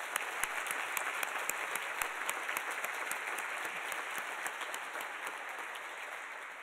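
An audience at a breakfast awards event keeps up a continuous round of applause, with a few sharper individual claps standing out near the front as the sound tapers slightly at the end.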